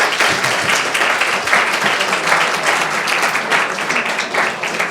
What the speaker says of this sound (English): big round of applause for Ian then.